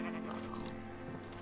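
Sheep bleating in the Minecraft video game, a short synthetic bleat set against steady background game sound, with no talk during the call.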